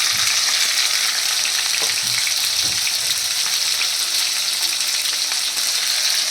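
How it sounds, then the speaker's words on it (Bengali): Two hilsa fish heads fry in a pan with spices and salt, producing a loud, dense, continuous sizzle close up with a few faint knocks underneath and no speech. "এবার এইখানে দেখো আমি যে আমার মাথা দুটো আমার ভাজা হয়ে যাচ্ছে"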